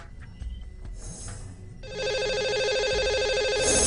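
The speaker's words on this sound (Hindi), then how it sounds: "आइए उन्हें फोन लगाते हैं" Phone ringback tone sounds as a lucky caller is dialed live on a Hindi radio show, a steady repeating ring starting about two seconds in after a quieter lead-in, fairly loud and with no talk over it.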